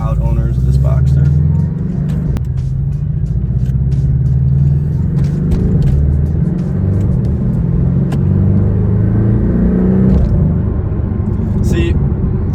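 A 2019 Porsche Boxster GTS gives a steady, loud low engine rumble throughout, heard from inside or beside the car with the road drone continuous and voices talking over it.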